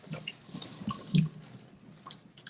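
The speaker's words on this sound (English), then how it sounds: "So I'm going to dip it in the water just briefly." A sheet of yuba is dipped briefly into water, giving faint, quiet splashes and drips with one slightly louder slosh in the middle, all low in level.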